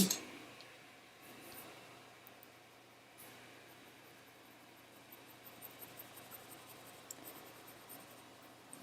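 Colour pencil drawing on paper, soft scratchy strokes and faint rubbing in a quiet room, steady and close, with occasional small clicks.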